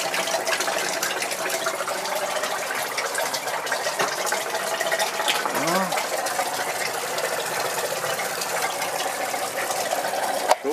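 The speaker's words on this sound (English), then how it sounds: "Good God, that water's really blurping out." Water gurgles and blurps irregularly out of hot water lines during a plumbing job, with a sputtering, rattling flow close by that continues throughout.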